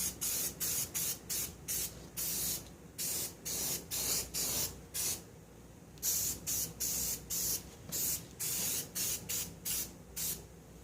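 Baked-on enamel is sprayed onto a flatbed car trailer's spare tire mount in short, repeated bursts of close hissing separated by brief pauses, about two dozen passes with no talking.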